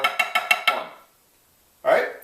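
A snare drum phrase of triplets and 6-tuplets with right-hand lead and alternating sticking: a quick run of crisp, evenly spaced strokes, then a pause, then a single louder accented hit, played alone.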